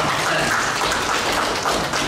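A crowd applauds, producing a dense, continuous wash of clapping that stays steady and fairly loud throughout.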